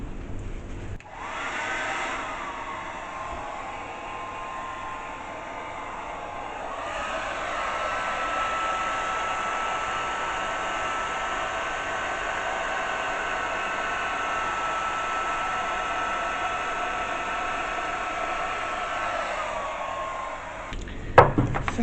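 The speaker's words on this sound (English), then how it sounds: "And of course I put my hairdryer straight into it." A hair dryer blows in a steady, loud whoosh onto acrylic paint for about twenty seconds after switching on, then cuts off with a click.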